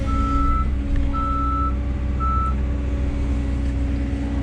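A truck's reversing alarm beeps three times in a steady rhythm at an excavator job site, loud and close over a low diesel engine rumble.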